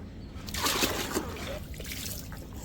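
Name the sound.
water poured over a baby during a bath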